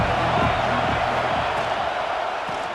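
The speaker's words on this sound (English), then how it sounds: "This crowd ready to make its presence known." Stadium crowd in the EA Sports College Football 26 video game, a dense, steady roar of cheering that fills the whole clip at high volume, with faint voices mixed in.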